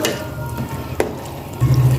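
Cumin and dried coriander fry with mutton in a hot pan. A close sizzle continues under a sharp clink at the midpoint, then a louder bubbling swell near the end, with no voices.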